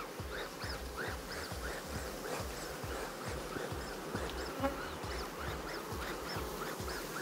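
Honeybees buzz in a dense, steady drone at an opened beehive, with a faint rhythmic knocking pulse running underneath throughout.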